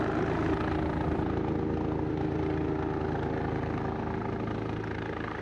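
A helicopter's engine and rotor give a steady, loud, continuous drone that holds even throughout, with no voices.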